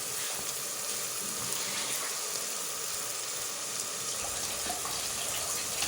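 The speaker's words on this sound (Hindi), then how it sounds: "1 गिलास पानी मैंने डाल दिया" About a glass of water poured into minced meat cooking in a pan with onion, tomato and garlic for a capsicum keema, giving a steady close rushing pour with light sizzle throughout and no talking.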